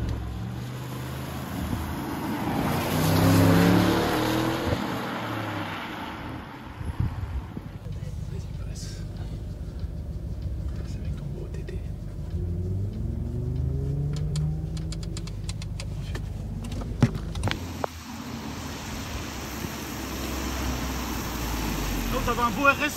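Engine of an Audi RS6 Performance, heard as a mid-level car engine rumble with a couple of brief revs, partly under French conversation between people nearby.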